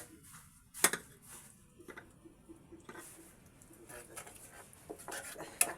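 Shrimp curry being stirred in a pan with a spoon, soft scraping and a few light metallic clinks, faint and close, with quiet sizzling underneath.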